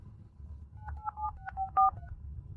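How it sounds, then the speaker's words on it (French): A telephone number is keyed in as a quick run of about eight distinct touch-tone beeps, fairly close and clean over a faint low background hum. "Je passe l'appel tout de suite."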